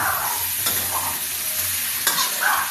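Basil stir-fry with century egg sizzles in a hot pan, with a continuous frying hiss and occasional scraping stirs, close and steady.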